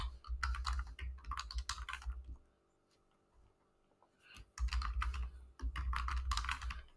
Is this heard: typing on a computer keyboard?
yes